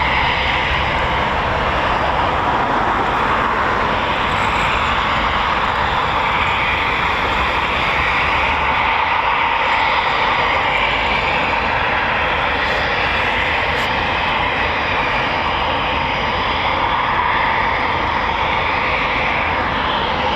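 Eurofighter Typhoon FGR4 jet engines running on the apron at RAF Coningsby, a loud, continuous broadband roar with a high whine on top, steady throughout and close by.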